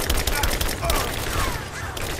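Rapid AK rifle gunfire in the shooter game Rise of the Tomb Raider, a loud, dense burst of shots layered with battle noise and continuing through the whole moment.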